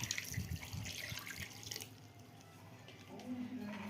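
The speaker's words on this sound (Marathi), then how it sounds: "याच्यामध्ये पुरेल असं पाणी आपण घालून घेणार आहोत" Water splashes and runs steadily into a pressure cooker of bharangi greens for about two seconds, then quiets to a low background hum with faint clinks.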